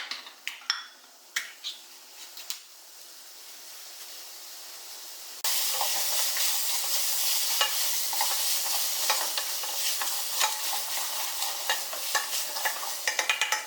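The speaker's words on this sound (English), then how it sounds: "And then you want to get this on the heat. And just give it a stir every now and again." A pot of rinsed chickpeas on the heat is stirred, with soft scraping strokes first, then a steady loud sizzle and hiss with occasional utensil clinks against the pan.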